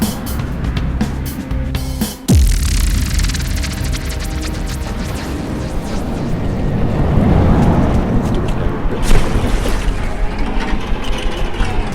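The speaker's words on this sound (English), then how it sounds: "Torpedo." Torpedo blast in the naval combat game From the Depths: one heavy, booming detonation early on, then a dense, loud rumble of engines and water noise that carries on steadily.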